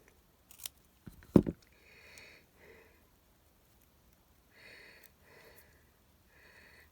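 Scissors cut paper in a quiet craft setting, with a few crisp close snips near the start followed by soft, faint rustling and sliding sounds.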